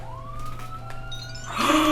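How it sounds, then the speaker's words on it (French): An emergency ambulance siren wails, a rising tone sweeping up and holding, then a louder, harsher blast of siren noise joins near the end, close and prominent. "Les secours arrivent. The emergency ambulance arrived."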